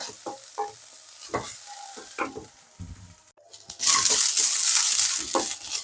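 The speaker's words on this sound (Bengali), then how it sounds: "নারকেলগুলো দিয়ে জাস্ট হালকা নেড়ে চেড়ে লাভিয়ে নিতে হবে, খুব বেশি এটা ভাজা যাবে না" Grated coconut and cashews are lightly fried and stirred in a pan for a korma spice mix, with scraping stirs and a soft sizzle that swells suddenly louder toward the end.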